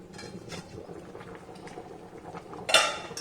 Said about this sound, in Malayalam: ഇപ്പൊ നമ്മുടെ കപ്പ വീണ്ടും നന്നായിട്ട് തിളച്ചോണ്ടിരിക്കുകയല്ലേ